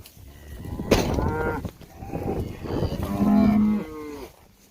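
Cattle on a hay-making farm moo repeatedly and loudly up close, several long drawn-out calls overlapping one another with no talk in between.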